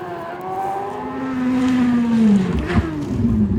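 A red sports car driving off-road, its engine droning steadily and rising in pitch as it accelerates, loud and close, with a rougher burst of revving and terrain noise near the end.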